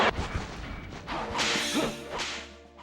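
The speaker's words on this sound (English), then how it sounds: "The whip cracks and explosions sound great" Whip cracks from the Nintendo 64 game Castlevania, sharp snapping lashes with swishing whooshes, repeated several times over a busy game soundscape with no talk.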